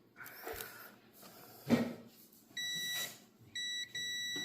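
A multimeter sounds its continuity beep while testing a dishwasher line fuse: a steady high electronic tone runs for about a second, stops, then returns in a second sustained beep with a brief dropout, after faint handling clicks and rustles.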